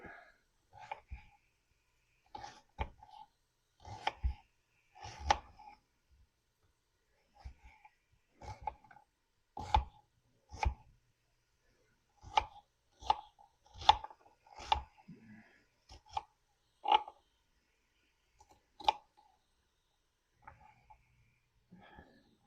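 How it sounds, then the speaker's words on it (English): An onion is chopped on a cutting board in a kitchen with a string of separate knife thunks, some quick and bunched, others spaced out with brief pauses, fairly close and clear with no talking. "I'll get this onion chopped up."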